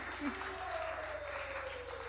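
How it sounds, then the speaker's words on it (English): Applause from a small group at an ISKCON temple Sunday Feast, steady clapping throughout with a tonal sound gliding underneath. "let's clap hands"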